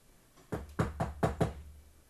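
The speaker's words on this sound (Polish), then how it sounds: "Ktoś puka do mych drzwi." Five firm knocks on a door, close and distinct, in a quick, slightly uneven rhythm with no talking.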